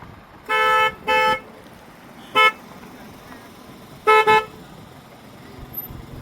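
A car is driven and parked at a lakeside campsite in the hills. Its horn gives two sustained toots, then a short one, then a quick double toot, loud and close, over a low background.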